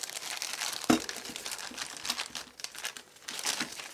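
A pink plastic bag holding a GPIB to USB adapter is handled close up, giving continuous crinkling and rustling with a sharper crackle near the start and no speech.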